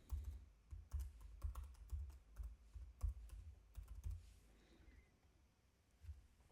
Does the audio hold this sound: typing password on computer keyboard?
yes